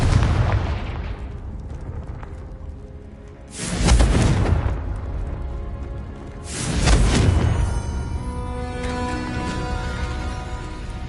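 Confringo explosive spell in Hogwarts Legacy, two loud booming blasts a few seconds apart, each a deep burst that rumbles and fades over a continuous background drone.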